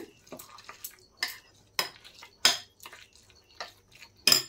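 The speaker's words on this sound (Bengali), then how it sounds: "এখন এই সব উপকরণগুলো একসাথে ভালো করে মিশিয়ে নেব।" A spoon scrapes and clinks against a bowl as sooji batter with curd, tomato and coriander leaves is mixed, in a run of sharp, uneven taps and scrapes with brief pauses between strokes.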